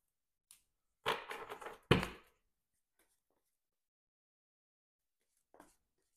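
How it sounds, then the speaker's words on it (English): A player deck of playing cards is shuffled at a tabletop card game: a quick, close, crackling riffle followed by a second short sharp burst, then near silence with a faint tap or two. "We're going to shuffle up our player deck here."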